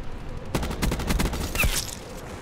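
Hades automatic gun in Call of Duty Black Ops 4 firing a fast, steady burst of roughly a dozen sharp shots, loud and close, ending with a brief metallic ring.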